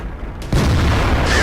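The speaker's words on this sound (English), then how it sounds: "Looks like we ammo racked him with that last shot. And a nice little explosion there." Tank ammo rack explosion in World of Tanks, a sudden loud low boom that cuts in after a quiet start and rolls on as a sustained heavy rumble with crackling debris.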